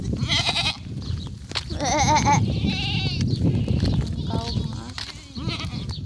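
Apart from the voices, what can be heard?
goats bleating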